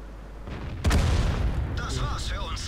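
A single heavy tank cannon blast in World of Tanks booms out suddenly, followed by a rumbling decay and electronic game sounds.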